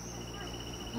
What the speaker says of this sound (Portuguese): E só escuta barulho de sapo aqui, né?